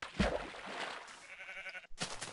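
Sheep bleat in a blocky village-building video game where a growing flock is kept, the calls fairly quiet and broken by a short gap before a final burst.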